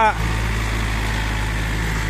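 A Yanmar 51-horsepower farm tractor engine runs steadily close by, a continuous low droning idle with no break, after a brief voice at the very start.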